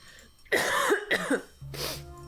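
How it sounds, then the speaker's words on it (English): A person coughs several times in quick, harsh bursts after choking on root beer, close by, with a short pause before a final cough. "I have to cough."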